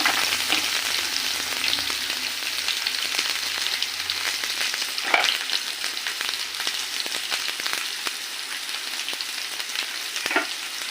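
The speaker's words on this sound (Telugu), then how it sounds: "ఆయిల్ హీట్ ఎక్కింది. మొత్తం దొండకాయలని దీంట్లో వేసుకున్నాము." Cut ivy gourd pieces frying in hot oil over a high flame, a continuous bright sizzle close by with occasional soft stirring scrapes and no talking.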